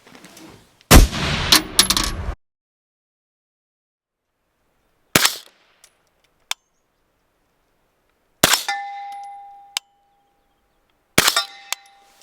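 Suppressed 300BLK rifle shots fired at a steel target, each loud muffled report followed a moment later by a sharp metallic clang, repeated four times with silent gaps between.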